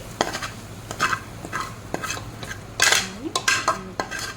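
Spaghetti stirred together with fried mutton keema curry in a metal pan, a spoon scraping and clanking in a quick series of knocks over a soft sizzle, with no talking.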